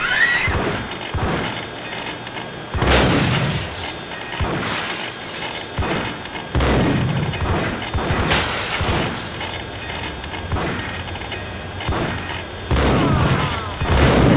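Gunfire in the Max Payne video game: repeated bursts of shots and shattering impacts, loud and close, recurring every few seconds over a steady game background.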